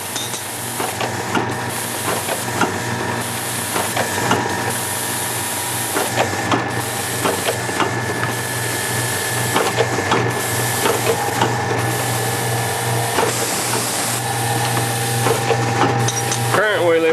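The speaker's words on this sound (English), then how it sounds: "This is our station that just transfers from our linear strap conveyor to a transfer conveyor." A linear strap conveyor hands parts onto a transfer conveyor at a thermal fuse assembly station, giving a continuous mechanical hum with steady hiss and rubbing, dotted with small clicks and rattles throughout.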